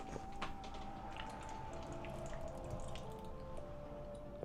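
Water drips and trickles quietly in a small indoor space, a scattering of soft irregular drops and light splashes over a faint steady background.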